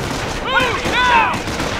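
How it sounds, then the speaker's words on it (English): Automatic gunfire in the World War II strategy game Company of Heroes, a continuous rattling fusillade heard amid shouted voices and chaotic battlefield noise over under two seconds. "Taking automatic fire!"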